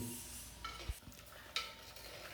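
Green chilies and ginger stirred in a cooking pan, a quiet, soft scraping with two brief utensil clinks against the pan and no voices.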